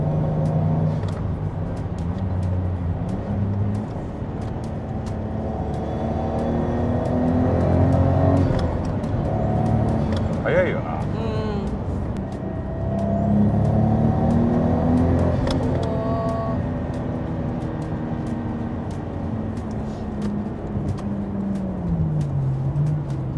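A car engine revs and accelerates through the upper rev range on fuel with an additive, rising and falling in pitch with gear changes, loud and close with no talk.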